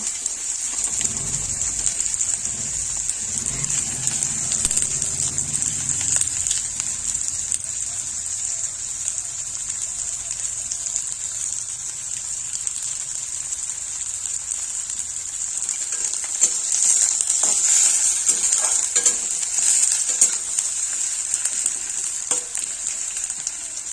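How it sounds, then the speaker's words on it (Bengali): Two medium chopped onions frying lightly in a pan for kalmi greens, a dense, even hiss like steady rain that stays loud throughout, with a few brighter crackling surges partway through. "পেঁয়াজগুলোকে একটু হালকা করে ভেজে নেব"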